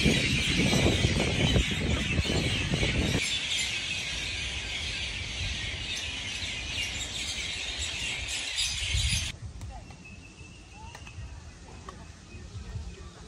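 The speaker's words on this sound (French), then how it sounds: "Vous entendez tous les oiseaux?" Birds sing and chirp in a Mauritius outdoor setting, a dense, bright chorus of calls that is fairly quiet and steady, thinning out partway through.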